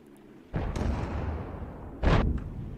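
Tank cannon shots land in World of Tanks gameplay: two deep, booming impacts, the first followed by a long rumbling decay and the second sharp and loud near the end.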